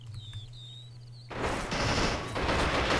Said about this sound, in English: Oh no, sorry, it's a heavy machine gun.